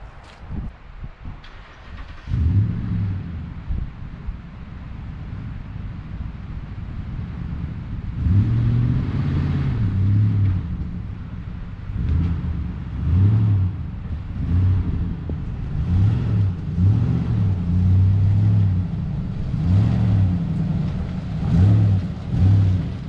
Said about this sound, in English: Hopefully that was the four-wheel drive slamming